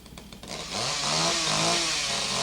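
A loud chainsaw from a horror film scene revs up after a few sputtering pulses and then roars steadily and close, its engine pitch wavering slightly.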